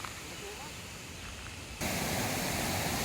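River water rushes steadily during a crossing, a broad even hiss that grows suddenly louder partway through as the water is entered, with people talking over it.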